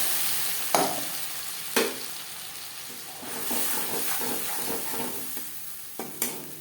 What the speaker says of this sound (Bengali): মাছ ভেজে নেওয়া তেলে দিয়ে দেব পেঁয়াজ টমেটো আদা ও কাঁচা লঙ্কা বাটা